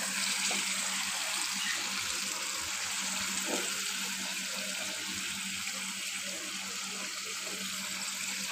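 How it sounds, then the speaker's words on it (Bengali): Water poured into a pan of duck curry with potatoes and spices, a steady rushing splash that runs for several seconds at an even level, close by, with no talk. "এখন আমি এতে সামান্য পরিমাণে আবার একটু পানি দেব"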